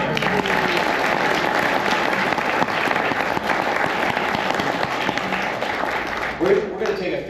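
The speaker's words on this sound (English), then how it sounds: "Another round of applause for John." An audience applauds historian John Maass at the close of his French and Indian War lecture, a steady, dense clapping that holds for several seconds before trailing off, with brief voices rising near the end.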